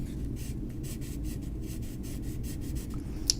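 A pencil drawing a hexagon on paper makes a steady series of close, scratchy strokes in an even back-and-forth rhythm, with a small tap near the end.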